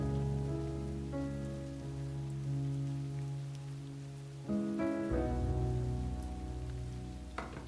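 Steady rain falls in a video game scene, a soft constant patter under sustained low musical tones that shift partway through.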